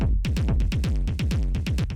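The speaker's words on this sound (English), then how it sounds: "I have a distortion." A distorted techno rumble bass pulses in fast, even throbs, dense and gritty with bright overtones on each hit, loud and continuous without any voices.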